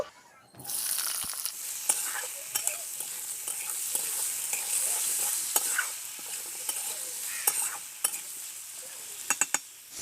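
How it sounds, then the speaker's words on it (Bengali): Dry red chillies, nigella seeds and green tomatoes frying in mustard oil in a kadai, a loud continuous close sizzle with repeated crisp stirring scrapes and clicks throughout. "কড়াই সর্ষের তেল দেব দুটো শুকনো লঙ্কা কালো জিরে কাঁচা টমেটো দিয়ে দেব"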